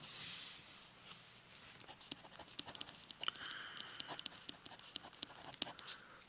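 Marker or chalk writing on a board during an algebra lesson, a dense run of short scratchy strokes and taps that sound close and continuous, with no talk over them.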